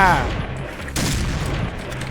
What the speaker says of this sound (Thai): ยิงเล่นปะเนี่ยอย่ายิงเล่นนะ